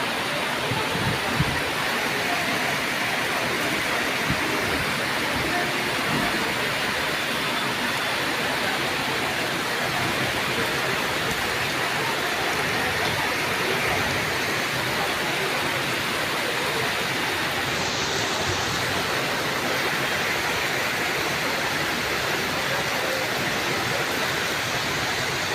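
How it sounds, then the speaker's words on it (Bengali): Heavy downpour of rain in hot weather, a dense, steady roar of pouring water that holds constant and loud for the whole stretch with no voices. "মুষলধারে বৃষ্টি হচ্ছে।"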